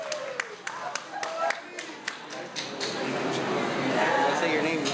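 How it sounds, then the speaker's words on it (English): Audience applause for a singer performing traditional California Indian songs at an indoor honors event, scattered claps at first that swell into steady, dense clapping through the end. "Give him a round of applause there."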